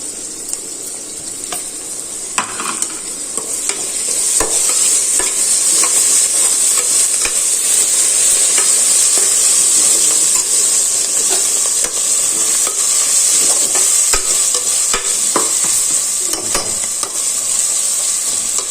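Coriander and mint sautéed and stirred in a pan for chicken biryani: a steady, loud oil sizzle runs throughout, broken by frequent short scrapes and clicks of the stirring spoon, with no talking.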